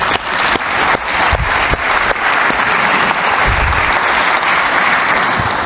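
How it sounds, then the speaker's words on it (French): Loud, sustained audience applause at a formal partners' ceremony event, dense clapping close by with a few sharper individual claps standing out, no speech. "On peut applaudir."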